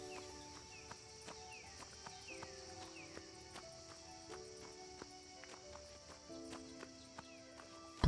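A horse's hooves clip-clop in the farming video game Everdream Valley, a steady run of light, even hoofbeats over soft game music with melodic tones.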